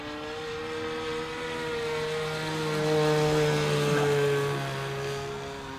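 A Ben Buckle Super 60 model airplane with a two-stroke engine flies overhead, giving a steady high-pitched buzz that rises and falls slightly in pitch as it passes, fairly near and continuous.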